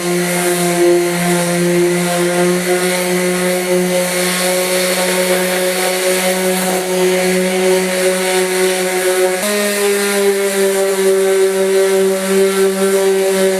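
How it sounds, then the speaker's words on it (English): A Ryobi oscillating sander fitted with 80-grit sandpaper works over a beaver hide, giving a steady, loud mechanical buzz with a strong hum that shifts pitch slightly partway through. "I'm going to take my Ryobi osculating sander with a 80 grit sandpaper"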